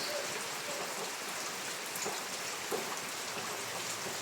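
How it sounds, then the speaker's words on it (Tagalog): Heavy rain pours steadily during a shearline storm with flooding, a dense, unbroken hiss of drops on surfaces close by, with an occasional faint knock beneath it. "Grabe po ang ulan."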